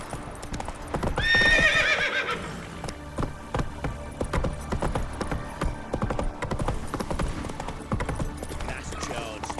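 Roach the horse in The Witcher 3 galloping with loud rhythmic hoofbeats throughout, a sharp neigh near the start, and someone talking over the hooves.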